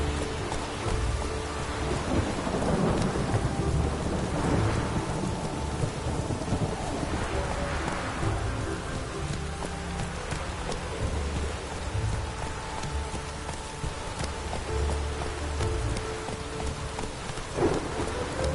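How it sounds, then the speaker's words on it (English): Steady rain pours throughout a stormy scene in the video game The Witcher 3, with low rumbles of thunder rolling in the background; constant and fairly loud, with no voices. "No use doing any work in this rain."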